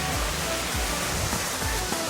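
A waterfall in Solstice Canyon makes a steady, dense rushing roar that fills the whole stretch, close by and continuous, with a few soft low thumps underneath.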